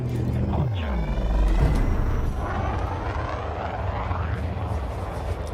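Spaceship departing a station in the video game Elite Dangerous: a loud, steady engine rumble with a deep low drone and a sweeping pitch rise around the middle, holding strong throughout without speech.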